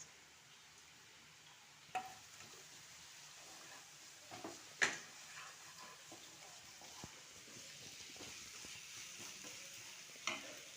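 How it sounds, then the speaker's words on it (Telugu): Masala spices frying in a pan for a curry with curry leaves, a faint steady sizzle broken by occasional scrapes and clinks of a spoon stirring. "మసాలా పచ్చివాసన అంతా పోవాలి అప్పుడు దాకా మసాలా బాగా వేగాలి"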